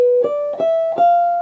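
A brief guitar passage: a ringing dominant chord with added 7th and 9th, with three quick plucked accents in steady succession, clear and close.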